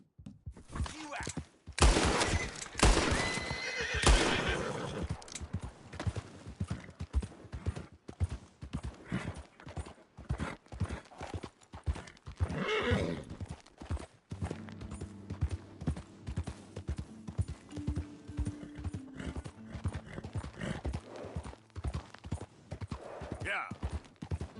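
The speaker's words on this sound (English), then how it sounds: "That's a fine horse you got there." Rapid hoof clip-clop of a galloping horse in the video game Red Dead Redemption 2, with bursts of gunfire, a horse whinny, and voices talking over the action, all dense and loud.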